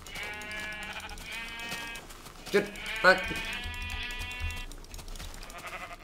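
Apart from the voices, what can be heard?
Minecraft sheep bleating, from a video game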